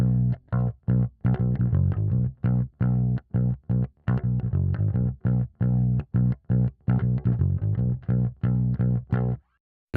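Bass tracks run through an LA2A compressor in a vintage mix, playing a choppy, rhythmic bass line of short punchy notes with brief gaps, moderately loud and alone, ending in a short pause.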